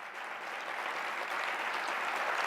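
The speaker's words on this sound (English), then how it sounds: "that deserves a round of applause" Steady audience applause at a county women's empowerment event in New York State, a dense wash of many hands clapping together, fairly loud and continuous throughout without speech.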